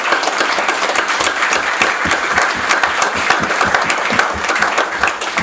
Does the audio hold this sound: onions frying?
no